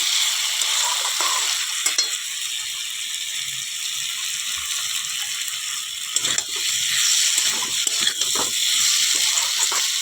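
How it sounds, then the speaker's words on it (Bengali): Pumpkin, potato and fish head sautéing with ground spices in a pan, a constant close sizzle broken by occasional scraping stirs and clicks of a spoon against the metal. "দিয়ে ভালোভাবে কষিয়ে নেব বন্ধুরা। একটু ঢাকা চাপা দিয়ে কষিয়ে নেব।"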